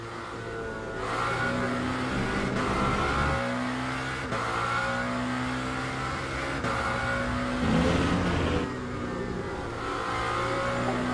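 A Lamborghini SC63 LMDh prototype race car in the Le Mans Ultimate sim racing game: a steady, buzzing engine drone with rising and falling revs as the throttle comes on and off, heard alone and moderately loud.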